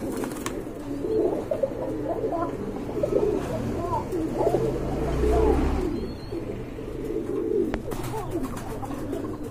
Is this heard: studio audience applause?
no